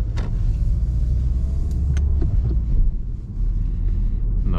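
A car pulls away in first gear and swings left through an intersection during a driving run in Tauragė, its engine a steady low rumble close by, with light wind noise and a few faint clicks over the drone.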